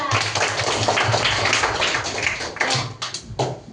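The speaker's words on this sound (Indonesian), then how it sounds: "Tepuk tangan buat Arya." Students in a classroom clap for a classmate, a short burst of dense, close clapping that stays loud and then breaks into a few scattered claps at the end.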